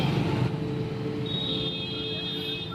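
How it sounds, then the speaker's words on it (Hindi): A steady wash of road traffic with a low engine rumble, a bit louder at the start, and a thin high whine entering partway through. "आज हमें सिर्फ सड़कों पर ट्रैफिक का ये शोर सुनाई देगा"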